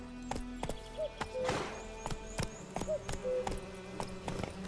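Hooves of Geralt's horse Roach in the game Witcher 3 pounding in a quick rhythmic clip-clop, close and steady, with a short breathy snort and faint tones between strides.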